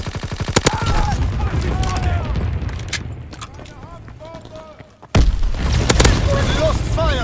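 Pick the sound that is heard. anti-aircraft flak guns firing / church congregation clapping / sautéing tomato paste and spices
anti-aircraft flak guns firing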